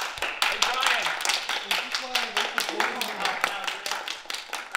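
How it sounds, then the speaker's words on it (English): Hands clapping in a group at a UB convention, a dense run of sharp claps close by, with a voice talking over them throughout. "Everybody, clap your hands"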